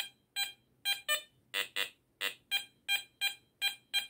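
A Garrett Apex metal detector is swept over a stack of copper coins and sounds a series of about a dozen short, bright electronic beeps in a rhythmic, slightly uneven pattern, some doubled, with no voices.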